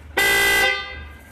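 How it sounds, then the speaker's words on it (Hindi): A Red Line Audi-style snail horn fitted to a Toyota Fortuner blasts once, a loud, bright, multi-tone honk lasting about half a second, close to the listener, then cuts off into quiet ambience. "रेड लाइन के ऑडी हॉर्न, एक बार फिर से बजाएं"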